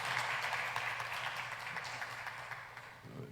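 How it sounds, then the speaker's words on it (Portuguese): A church congregation applauds an elderly couple celebrating 51 years of marriage, a steady wash of clapping from many hands that slowly thins and fades over a few seconds. "Palmas para eles, né, gente?"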